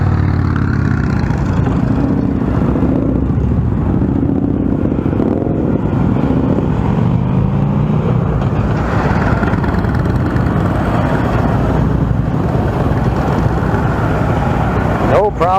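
A Harley-Davidson Sportster motorcycle is ridden at a rider-training course, its engine a continuous loud rumbling drone that rises and falls with throttle, while people talk and shout over it.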